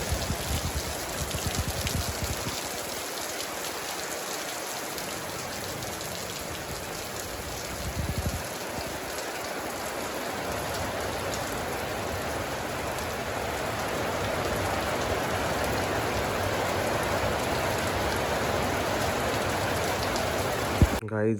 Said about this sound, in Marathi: खूप बेकार पाऊस येतोय.